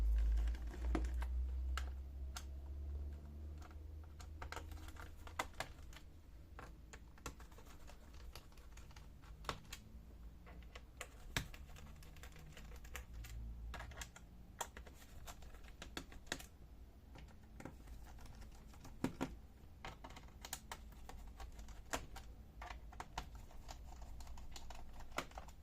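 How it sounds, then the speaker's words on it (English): Screws being removed from the back panel of a Dell Latitude E5570 laptop, with dozens of small sharp clicks and taps scattered irregularly over a steady low hum, close and fairly quiet, no talking. "Now on the rear side we have to unscrew all of the screws"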